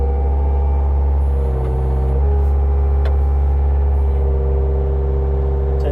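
A 2007 loader's engine holds a steady, loud, close diesel-like rumble as the throttle is raised, with only slight shifts in pitch and no voices.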